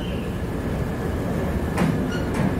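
A train pulls into Constanța station, its steady low rumble of wheels and carriages rolling close by, with a couple of brief metallic squeals near the end and no talking.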